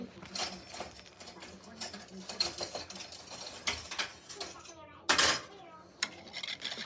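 Deer jerky seasoning being mixed in a bowl with a whisk or spoon, giving rapid clinking and scraping that comes in uneven bursts, with a louder clatter partway through.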